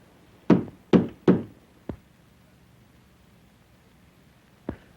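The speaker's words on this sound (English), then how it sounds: "Knock on wood." Three firm knocks on wood land in quick succession, followed by a lighter tap and then one more isolated knock after a pause, over a faint hiss, in an old 1930 comedy film.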